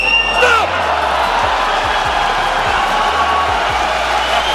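A fight crowd cheers and whoops in a dense, continuous roar with scattered shouts and yells, loud and sustained throughout.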